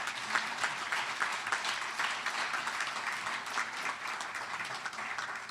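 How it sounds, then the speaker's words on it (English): Steady audience applause at a manufacturers' association awards event, a dense wash of clapping hands held at an even level throughout, moderately distant with no voices over it. "How about a round of applause?"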